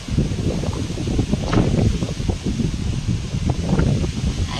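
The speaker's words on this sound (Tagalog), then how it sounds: "Sobrang lakas yung hangin." Strong wind buffets steadily with a low rumbling roar and rustling, gusting louder at moments, with no voices.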